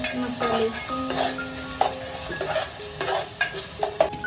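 Ginger and garlic fry in a pan with green chillies, a close steady sizzle broken by repeated scraping and stirring of a spoon against the pan, with no talking.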